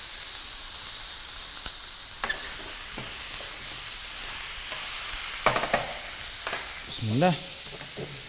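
Food fries in a pan with a loud, close, continuous sizzle, broken by scraping and clacking stirring strokes from about two seconds on. A brief spoken phrase comes near the end.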